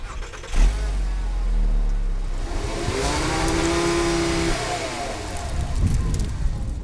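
A 2008 Volkswagen Rabbit (Mk5 Golf) hatchback drives on a road, its engine building steadily under acceleration with a rising mid-pitched drone and tonal hum, settling back toward the end.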